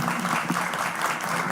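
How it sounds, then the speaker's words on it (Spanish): An audience at a leadership conference in Guatemala gives sustained applause, a steady crackle of many hands clapping, moderately loud with a faint low murmur beneath. "El aplauso para ustedes."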